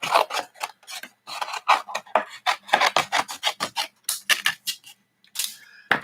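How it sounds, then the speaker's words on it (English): Scissors cut a piece of watercolour cardstock down to size, producing a quick run of close, crisp snipping and rasping strokes in an uneven rhythm with short pauses. "I'm just going to cut it down."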